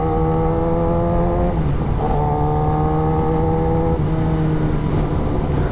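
Kawasaki ZX10R sport motorcycle fitted with a dB killer, heard close up as its exhaust drones loudly and steadily, pitch dipping and climbing again with shifts, with no talk over it.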